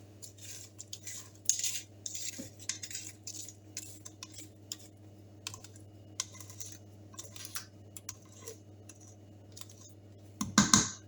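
Coconut cake batter scraped from a mixing bowl with a utensil, giving a run of light clicks and scrapes at close range over a steady low hum, with a louder clattering burst near the end.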